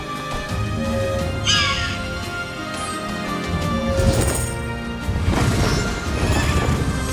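A horse enemy in the video game Child of Light neighs shrilly amid game music and battle effects, a sharp whinny near the start followed by crashing hits and further neighing later.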